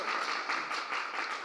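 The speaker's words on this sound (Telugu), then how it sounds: "గట్టిగా చప్పట్లు కొడుతూ సార్ని అభినందిద్దాం." Audience applause at the inauguration of an orphanage run by a charitable trust, a dense, steady wash of many hands clapping together from start to end, fairly close and continuous.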